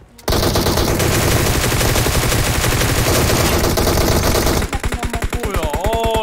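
A long, loud sustained burst of automatic rifle fire in PUBG Mobile, close and unbroken for about four seconds, then slower separate shots, with no talking.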